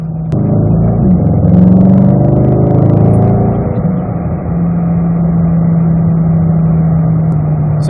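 A 2020 Corvette C8 mid-engine sports car drones loudly from close range, its engine note swelling and shifting pitch early on before settling into a steady, even hum.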